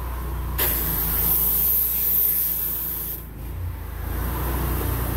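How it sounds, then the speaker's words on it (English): A sprayer hisses a steady stream of liquid onto a hand outdoors during roof cleaning, a continuous loud spray with a brief dip and shift in tone partway through. "Hey, spray my hand."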